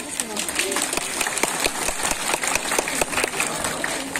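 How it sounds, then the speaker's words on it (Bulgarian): A village crowd applauds during an Eid al-Adha holiday celebration in Ribnovo, Bulgaria, with continuous clapping carried through the open air and voices talking over it. "Вашите аплодисменти за тях."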